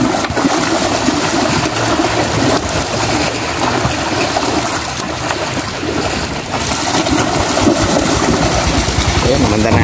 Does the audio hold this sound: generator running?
yes